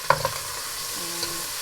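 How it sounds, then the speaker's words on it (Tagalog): Tomato dropped and stirred into garlic and onion sizzling in a pan for a Filipino sautéed chayote dish, a soft clatter then steady frying hiss, close and brief. "So we're gonna go ahead and throw in our tomato."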